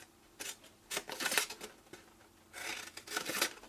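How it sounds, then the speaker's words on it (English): Scissors snipping up the score lines in patterned craft paper for a votive candle holder, quick close clusters of crisp cuts with short pauses between, no talking. "What we need to do now is cut up all of these score lines here."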